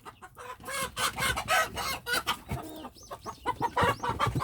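Chickens roaming around a rabbit hutch on a farm, clucking repeatedly in rhythmic bursts with sharper calls, near and moderately loud, with no talking.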